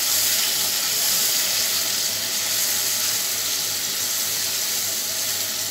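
Masala fries in oil in a pan for a hilsa fish and brinjal curry, a constant bright hiss of sizzling that holds steady throughout without any voices.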